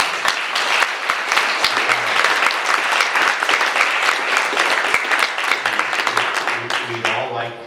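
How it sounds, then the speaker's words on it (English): Sustained, dense applause from an audience at an awards ceremony honoring Rwandan genocide rescuers, loud and steady throughout, with a few sharper claps standing out and faint voices mixed in beneath. "So please, let's give another round of applause."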